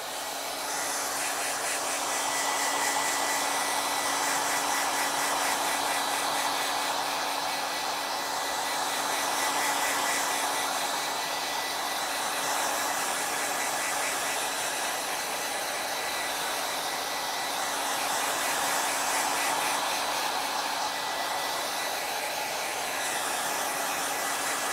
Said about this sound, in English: So I'm gonna take out my blow dryer and I'm gonna blow dry my painting to lock it in place.